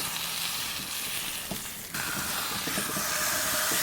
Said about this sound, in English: I'm gonna sear it off real quick.